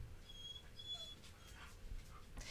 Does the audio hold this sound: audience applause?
no